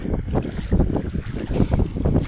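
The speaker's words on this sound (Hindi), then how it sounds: "पानी का बहाव बहुत तेज है" Loud, turbulent rushing water of the fast-flowing Dhadhar river flows continuously, surging in uneven pulses with a rough wind-like roar.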